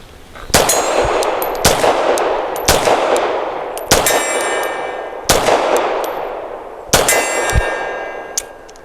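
A Tisas Bantam 9mm pistol fires about nine loud, sharp shots at a target 25 yards away, spaced unevenly about a second apart, each ending in a metallic ringing tail, with no talking.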